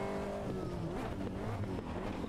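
Race car in the sim game Automobilista 2 drives with a continuous engine drone, the pitch shifting and rising through gears, close and steady throughout.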